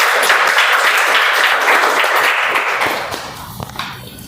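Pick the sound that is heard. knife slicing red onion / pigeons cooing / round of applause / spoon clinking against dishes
round of applause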